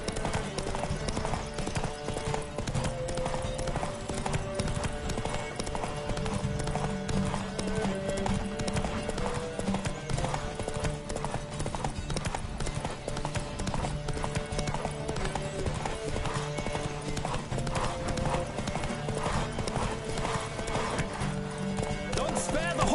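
Horses gallop in The Witcher 3 on PS5, with steady clip-clop hoofbeats and occasional whinnies running the whole time beneath continuous music and game sound, and a rider's voice calling out over the top.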